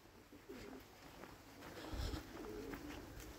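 Domestic pigeons coo softly in a breeding loft, low rolling calls repeating under steady background noise with a thump near the middle.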